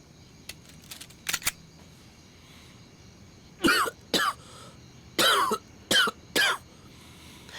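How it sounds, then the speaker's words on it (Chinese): Several sharp, harsh coughs come in a close cluster after a quiet stretch, each one loud and near in a still room, with a few faint clicks earlier. "刚才你那2声咳嗽"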